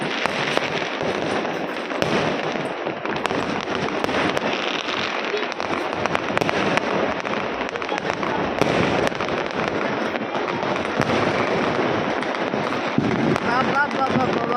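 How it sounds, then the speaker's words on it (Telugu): Firecrackers bursting continuously at a New Year celebration, a dense crackling barrage of rapid pops throughout, with people talking over it. "మా క్రాకర్స్ చూడండి వాళ్ళే కాల్స్తున్నారు."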